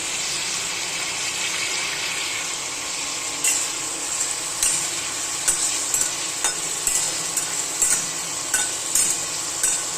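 Spices frying in oil for a prawn curry, a soft steady sizzle with intermittent sharp scraping stirs of a utensil against the pan growing more frequent toward the end.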